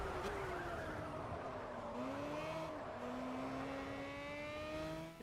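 A race car engine in the video game Project CARS hums steadily at close range, its pitch dipping and climbing as it shifts and accelerates, with faint tire noise and no talking.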